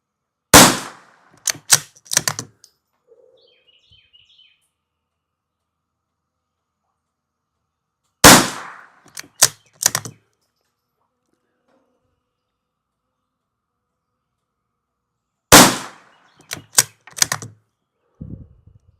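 Three tight groups of rifle shots fired at a paper target on an outdoor range, each a sharp crack followed by quick follow-ups, five rounds per group with long quiet gaps between, loud and close with no talk.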